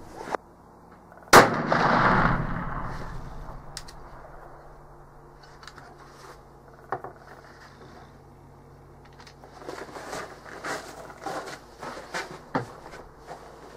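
A Traditions Pursuit muzzleloader loaded with Blackhorn 209 powder fires a single loud, booming shot nearby. A long rumbling tail follows, then scattered clicks and handling noises.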